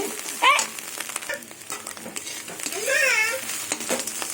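Beetroot, carrot and peas fry in a pan with scrambled egg, making a soft sizzle broken by a few scraping stirs and squeaky spatula strokes, close up.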